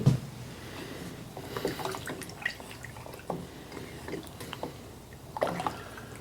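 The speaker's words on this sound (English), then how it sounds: "then just give it a stir" A spoon stirring a mix of 110 proof corn moonshine and caramel apple liquid, soft close liquid swirls and light clinks repeating irregularly at low volume.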